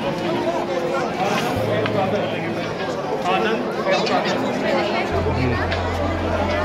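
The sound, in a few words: chatter of a large crowd of pilgrims at Vaishno Devi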